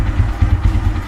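A Taro GP One V1 motorcycle engine, just filled with new semi-synthetic oil, runs with a slightly rough, cracked note, a loud close pulsing throb lasting only a moment.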